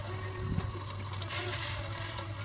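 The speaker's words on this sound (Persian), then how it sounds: "3-4 لیوان آب بهش اضافه کنیم." Water pours steadily into a pot of ghormeh sabzi with a soft splashing rush, growing a little louder partway through, over a low background hum.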